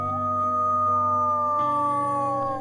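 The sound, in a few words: wolves howling at a Florida Panhandle sanctuary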